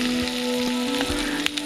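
Onions sizzle and fry steadily in a hot pan at an outdoor jungle night picnic, the cooking base for a fish bhuna; continuous close frying hiss with a few small clinks, no talk.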